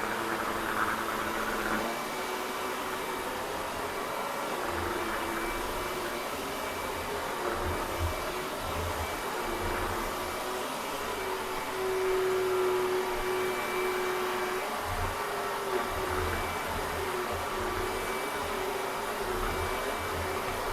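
A smart vacuum cleaner runs on max mode over carpet with a sticky backing, giving off a continuous loud whooshing roar with steady suction noise and small shifts in tone as it moves, with no talking.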